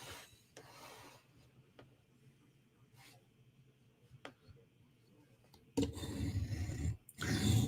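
Strokes of a TSProf Kadet sharpener grind a Protech Mordax knife bevel, quiet rasping passes at first, then louder, longer abrasive strokes near the end, with no talk.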